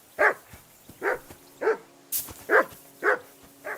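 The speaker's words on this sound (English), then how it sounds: "I assume you can hear that damn dog of yours barking." A dog barking in Kingdom Come: Deliverance II, six loud, evenly spaced barks close by in a steady rhythm, with no voices.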